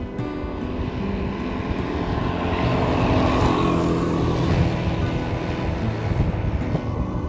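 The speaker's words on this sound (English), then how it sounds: "That's the occasional motorbike or scooter" A motorbike or scooter passing on a remote rural road in Thailand, a steady engine drone that swells to its loudest midway and then eases off, with no voices.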